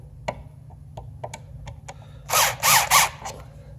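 A screwdriver tightens screws on a loose electrical outlet, giving a few sharp clicks and ticks, then three louder rasping bursts of turning metal close by.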